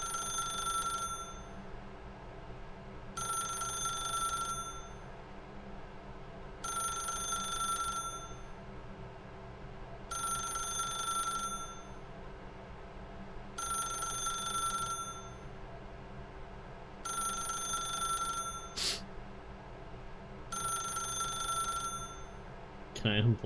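A telephone in a video game rings in regular bursts, each about two seconds long with a short pause between, repeating steadily over a low background hum.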